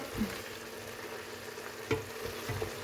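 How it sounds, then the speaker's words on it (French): Chicken pieces coated in spices are stirred in a sizzling pot for chicken couscous, with a low, steady frying hiss and a few soft scraping knocks, one a little sharper than the rest. "Donc on mélange"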